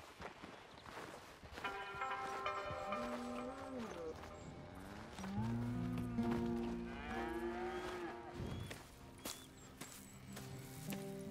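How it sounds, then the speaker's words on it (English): Cattle low in long drawn-out moos on a ranch in Red Dead Redemption 2, several overlapping calls with hoof clip-clop and footsteps beneath, moderately quiet with no speech. "Here's the cows."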